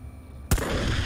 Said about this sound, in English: Ah, explosion!